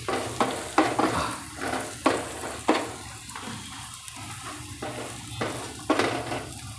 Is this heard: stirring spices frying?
yes